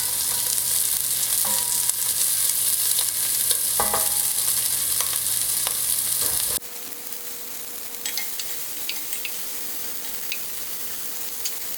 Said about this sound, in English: Mostly I just want that brown on the bottom of my pan there, and to render out some of the fat from this pork.